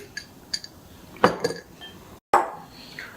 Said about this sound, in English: put some of our peppers in, add some of our onions in, put some more of our peppers in